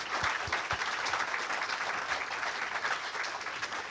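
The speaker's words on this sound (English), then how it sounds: "let's give Dr. Reynolds one more big round of applause" An audience at a café science talk on the gut immune system gives a sustained round of applause after the speaker, dense steady clapping with a few sharp nearby claps standing out at the start.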